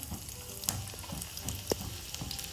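Garlic sizzles steadily in hot tadka oil for dal, a continuous close frying crackle with a few sharper pops and stirring clinks.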